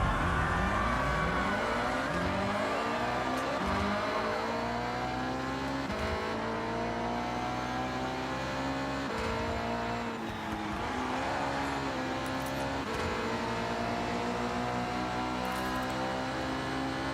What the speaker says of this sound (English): Going to be racing a BMW A50 CSI